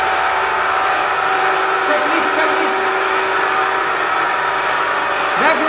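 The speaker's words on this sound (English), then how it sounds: "Vacuum pump to the end, we can start casting." The vacuum pump of a jewelry vacuum pressure casting machine for gold or silver runs as a steady, loud mechanical whir with a constant hum, close by, and a voice briefly overlaps.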